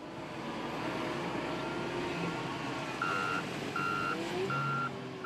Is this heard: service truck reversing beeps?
yes